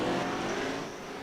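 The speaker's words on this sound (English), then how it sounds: "Really pushing these pro trucks, using every little bit of track available to them" Pro racing trucks in a sim racing video game roar along the track. A dense, steady engine drone carries on throughout and fades slightly toward the end.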